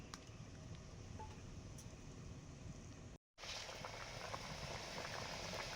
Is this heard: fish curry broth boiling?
yes